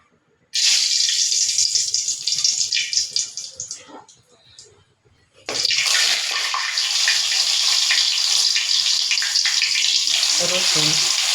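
Dal (lentils) tipped into hot oil for a Bengali dish, an abrupt loud hiss that fades, pauses, then bursts back as a sustained roaring sizzle, with a few faint clinks near the end.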